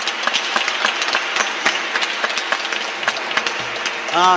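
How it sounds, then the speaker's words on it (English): Dense applause from a crowd, steady and sustained throughout, with scattered sharper claps standing out near the end. "So I want to give those folks a round of applause for all their humble hard work"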